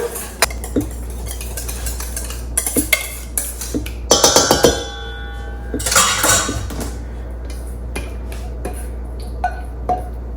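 Tortellini pasta salad being tossed with dressing in a bowl, with clattering and scraping of utensils against the dish in bursts, close and clear, with no talk.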